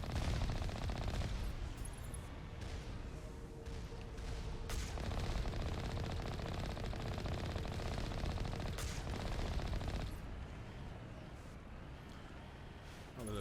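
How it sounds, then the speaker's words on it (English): Enemy turret in the Mass Effect: Legendary Edition game fires sustained, dense automatic bursts that run continuously for the whole stretch, loud and close, with brief breaks in intensity around a few points. "Oh, there's a turret way over here."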